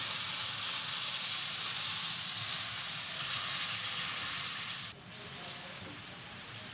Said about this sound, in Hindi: इस चिकन को आपने अच्छे से सौते करना है, तकरीबन 2 से 3 मिनट लगा के मीडियम लो आंच पर